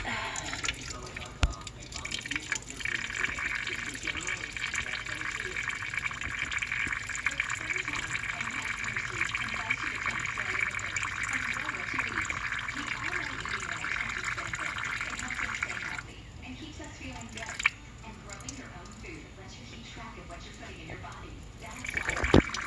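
Used engine oil drains from a 1998 Dodge Ram with a 3.9 L V6 during an oil change, a steady liquid trickle and patter into a pan that runs continuously, easing off near the end, with brief talk over it.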